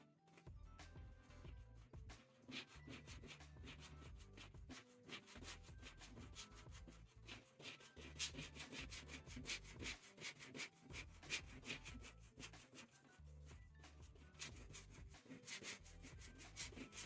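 Rapid rhythmic rubbing strokes sand and smooth the base of a Razer Viper V2 Pro computer mouse, a continuous scratchy back-and-forth up close with brief pauses, no talking.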